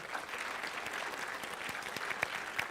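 A congregation applauds its volunteers at a spiritual center service, a steady wash of many hands clapping throughout with a few sharper individual claps standing out.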